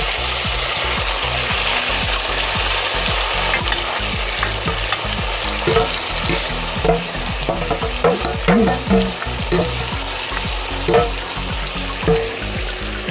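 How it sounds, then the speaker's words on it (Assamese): Marinated chicken for biryani frying in hot oil in a kadai, with a loud, steady sizzle and bursts of clattering scrapes as the pieces are stirred and turned. No one speaks. "এতিয়া মই এই তেলটো গৰম হ'ল, এতিয়া মই মাংসটো ইয়াত বহাই দিছোঁ"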